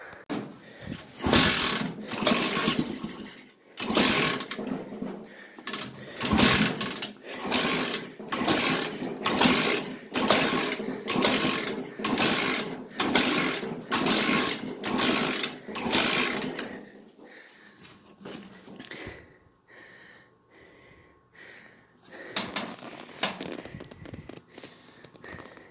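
Repeated kicks at the kick-starter of a 125cc engine swapped into a Yerf Dog go-kart, a long run of rhythmic mechanical clunks and whirs, close and loud, then a quiet stretch before a few more kicks.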